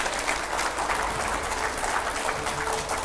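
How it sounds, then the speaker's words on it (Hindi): Sustained applause from a studio audience greeting an arriving guest, a steady, dense wash of clapping that carries on without pause. "जोरदार तालियों से स्वागत करिए"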